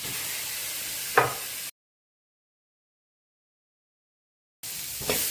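Grated coconut, onion and tomato sautéing in a pan: a soft, steady sizzling hiss with a brief stir. It cuts to complete silence for about three seconds, then the sizzle resumes.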